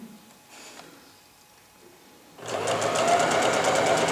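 A sewing machine starts up and stitches dress fabric in a fast, steady run after a quiet moment, close and clear.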